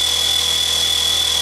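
Model helicopter blades spin at full throttle on a DIY thrust test rig, a loud, steady high-pitched whine and whir that holds unbroken throughout with no talking.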